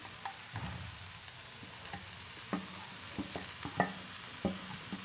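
Paneer and vegetables being stirred together in a hot pan, a quiet background sizzle broken by several soft spatula scrapes and knocks at uneven intervals, heard alone without speech.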